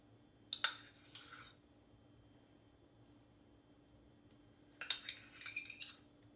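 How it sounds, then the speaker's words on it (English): A metal spoon clinks twice against a dish while dolloping yogurt sauce onto a vegetarian wrap, two short bright bursts with quiet gaps in a still kitchen. "this delicious yogurt sauce mixture that I'm just gonna spoon on top"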